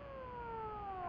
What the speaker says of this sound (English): Ambulance. Somebody must have got hurt.